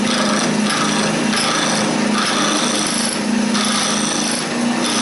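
A loud, continuous grinding scrape of a 3/4 inch skew chisel against spinning wood on a lathe, with a steady motor whine and pulsing rhythm, close up and without speech.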